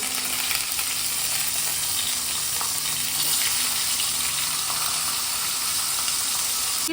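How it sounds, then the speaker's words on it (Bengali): Fish heads rubbed with salt and turmeric fry in hot oil in a pan, giving a loud, continuous crackling sizzle that stays steady throughout. "তো মাছের মাথাগুলোকে খুব ভালোভাবে ফ্রাই করে নেব।"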